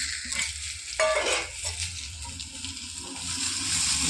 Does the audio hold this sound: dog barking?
no